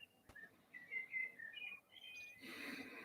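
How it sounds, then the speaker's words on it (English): Birds chirping and tweeting outdoors in a quiet setting, a string of short, high, fairly faint calls with a few brief pauses, then a softer wash of song and background noise toward the end. "we hear the sound of the birds and we hear them outside"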